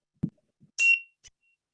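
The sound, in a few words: meditation bell ringing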